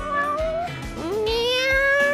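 A cat meows in the video game Judge Eyes, with a few drawn-out rising and falling calls in quick succession, loud and close with no talk over them.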